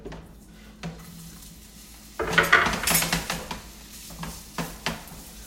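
Tofu tipped into an oiled pan and stirred for a spiced spinach sauce dish, with a burst of sizzling and repeated metallic scrapes and clatters of the utensil against the pan, close and fairly loud.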